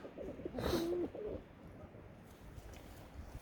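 Homing pigeons coo briefly at a loft, one soft call near the start, with faint background rustle and no speech.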